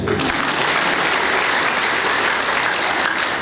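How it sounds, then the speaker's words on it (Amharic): Sustained audience applause at a talk, dense steady clapping from a crowd that fills the whole stretch at an even, loud level with no voices over it. "አጨብጭቡለት"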